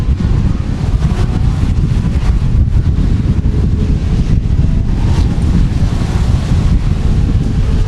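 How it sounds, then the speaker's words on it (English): Strong wind batters the microphone at a dirt race track, a loud, continuous rumbling roar that fills the whole stretch with no letup and no voices above it. "I originally thought that wind had gone down just a bit, Court"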